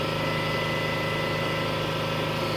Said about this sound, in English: It might be hard to hear me right now because the compressor's on.